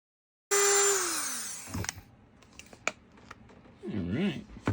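A power tool cutting a plastic LCD light shade for a CFMOTO 650 MT Adventura, starting with a loud whine that drops in pitch as the blade bites. Scattered clicks and handling noises follow, then a short wavering burst of cutting.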